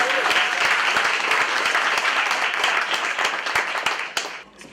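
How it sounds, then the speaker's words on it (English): Applause from the audience at a spoken word poetry event, a dense steady wash of many hands clapping for several seconds before fading out at the end. "can y'all get a round of applause for yourselves?"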